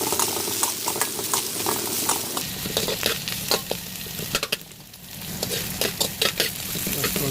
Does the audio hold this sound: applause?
no